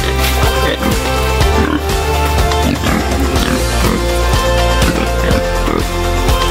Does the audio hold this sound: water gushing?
no